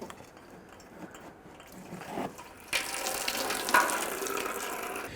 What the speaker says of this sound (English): Catch any more residual coolant that should come out of this radiator